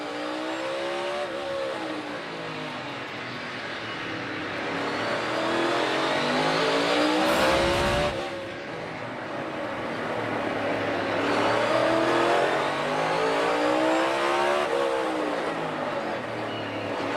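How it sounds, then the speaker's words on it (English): A NASCAR race car practicing at the Coliseum roars through repeated rising and falling engine sweeps, loud and close, with a sharp burst midway as the rear wheels lock up under braking. "You could hear the rear tires starting to lock up right there."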